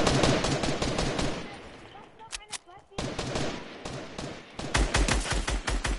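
Rapid bursts of gunfire in a shooter video game, near and loud, broken by a brief lull in the middle, with players talking over the shots.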